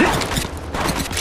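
Weapon reloading in Apex Legends Mobile, a quick series of mechanical clicks and metallic clacks over a busy background of distant gunfire, steady and moderately loud.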